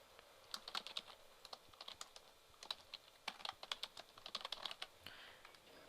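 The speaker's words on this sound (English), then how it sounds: "I'm going to type a word." Rapid keystrokes on a computer keyboard while typing a word into Illustrator, a quiet, close string of irregular clicks in bursts over several seconds, alone with no talking.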